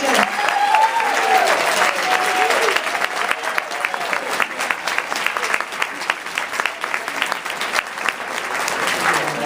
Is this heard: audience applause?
yes